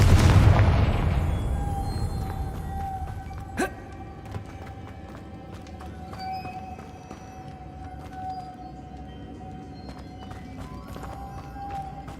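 Confringo spell explosion in the Hogwarts Legacy video game, a heavy booming blast at the start that decays into a ringing tone with scattered small pops and crackles.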